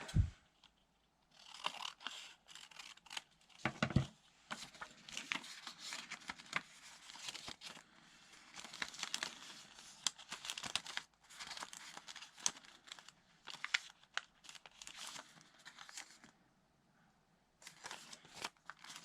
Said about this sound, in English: let's trim a little bit of that off the top